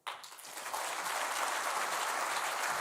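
An audience at an international forum in Hong Kong breaks into applause after a speech, a dense, steady clapping that starts abruptly and holds evenly throughout.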